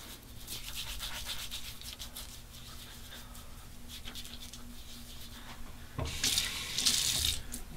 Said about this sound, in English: More hot water.